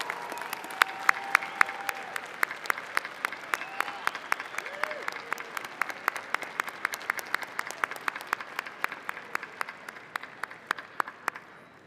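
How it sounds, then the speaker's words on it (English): Graduation ceremony audience at Ohio University applauding steadily and loudly for about twelve seconds, dense clapping throughout with a few sharper individual claps standing out, no voices over it. "let's stand up and give a big round of applause to everyone in the audience and watching online who has been there for you every step of the way"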